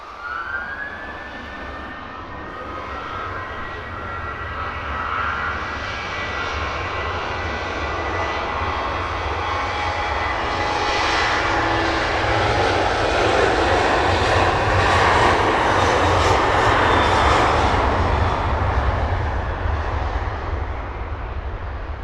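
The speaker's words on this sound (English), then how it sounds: "Even longer takeoff roll from this Ryanair." A Ryanair jet on a long takeoff roll at Luton Airport at sunrise, its engines roaring steadily and building in loudness as it accelerates down the runway, with a rising whine, heard alone from nearby.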